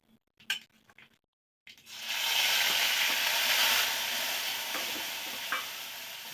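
Ground whole spice paste drops into hot mustard oil with black cumin. After a few soft knocks and a brief silence, a loud, sustained sizzle bursts out and keeps going close up, with light stirring clicks.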